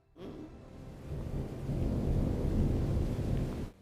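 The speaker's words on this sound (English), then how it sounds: "Finally, rain." Rain and thunder in the Roman city-builder game Anno 117 Pax Romana during a volcanic season: a broad, steady rumbling wash that swells after a quiet start, holds loud and even, then stops abruptly, with no voices.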